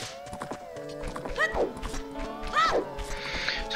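A horse in The Legend of Zelda game: soft hoof clops and thumps with two short whinnying cries, close by and moderately loud over a faint game background.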